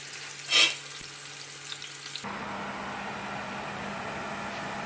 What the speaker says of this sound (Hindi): राइस बनाने के लिए ये प्याज का पहले तड़का बना लूँ